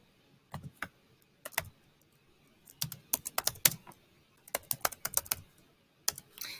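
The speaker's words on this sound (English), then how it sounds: "we're going to go to our Google Doc and we're going to type 18th" Computer keyboard keys click in short irregular bursts, close and quiet, as a phrase is typed into a document, with pauses between runs and no voices.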